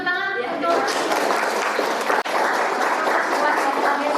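Applause from an audience at an open-class teaching session, a steady dense clapping that fills the room and continues evenly throughout.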